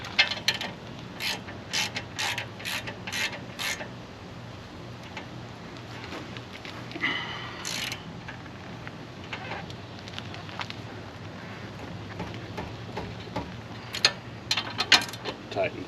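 A ratchet with a 17mm socket tightens the brake caliper bolts on a 2017 Hyundai Santa Fe Sport during a front brake job, giving rapid bursts of close, sharp clicking with pauses between strokes.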